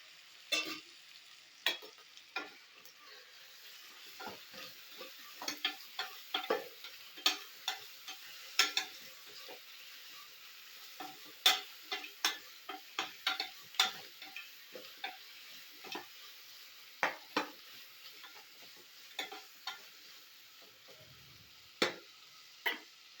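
Quarter kilo of marinated boneless chicken sizzling in a hot pan, steady faint frying hiss under a run of sharp scattered clicks and scrapes from a spoon stirring against the pan, no voices.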